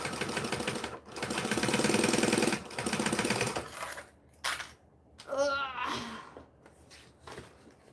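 Domestic sewing machine running in bursts while stitching and back stitching a raggabrash, loud and close, with short pauses between runs and someone talking over the quieter stretch near the end.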